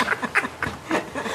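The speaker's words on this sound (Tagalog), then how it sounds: "Ayan naman ang bibing nagwagwardya" A guarding duck quacking nearby in a forest setting, four or five short nasal calls in a quick irregular series.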